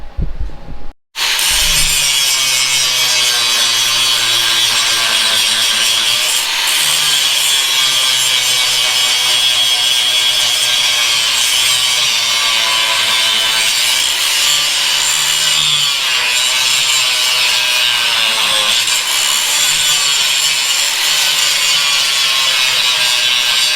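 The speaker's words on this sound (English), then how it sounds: "So now I'm going to grind down the other side and make some plates." An angle grinder works steadily along one side of a Stublazer stub welder during a rebuild, a loud continuous abrasive whine with slight shifts in pitch, running nearly unbroken for over twenty seconds with no talking.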